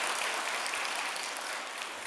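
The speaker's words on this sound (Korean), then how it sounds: "새로 오신 우리 식구님들을 위해서 우리 크게 박수, 환영의 박수 한번 보내주시기 바랍니다" A church congregation applauds together at a Sunday worship service to welcome new members, a dense, steady wash of clapping that stays loud and even for the whole stretch.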